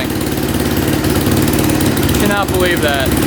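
A 450cc dirt bike engine idles roughly and loudly up close, a steady rumbling drone throughout, with a voice briefly talking over it near the end.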